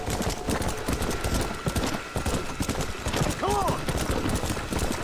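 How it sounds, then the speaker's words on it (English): Rapid horse hoofbeats clatter steadily throughout, with a brief whinny-like squeal partway through over a busy background, in the video game Red Dead Redemption: Undead Nightmare. "Is that like a live wild horse?"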